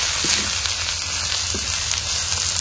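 Drumstick (moringa) leaves sautéing in a pan over a wood fire for chutney, a steady close sizzle and crackle throughout with a few faint stirring scrapes.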